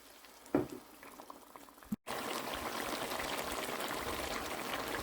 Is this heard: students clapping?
no